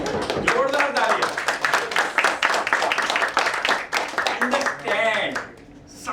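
A crowd clapping loudly and steadily, a dense patter of applause with a voice speaking over it, dying away at the end.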